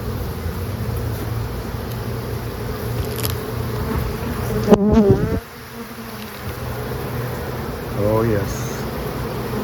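Dense, steady buzzing of many honey bees swarming over an open backyard beehive, close and continuous, with someone briefly speaking over the drone.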